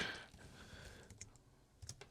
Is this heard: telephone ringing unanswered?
no